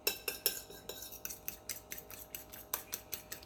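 A utensil clinks and scrapes against a bowl while seasoned chicken is mixed for Italian lemon chicken, a quick uneven series of sharp metallic taps and scrapes, close and with no talk.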